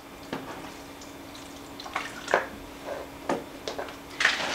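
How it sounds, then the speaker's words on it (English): Liquid is poured in small splashes into a bowl of stuffing mix, a handful of faint, irregular trickles and drips spaced over a few seconds, close and quiet, with no talking. "I'm going to pour a little bit in at a time."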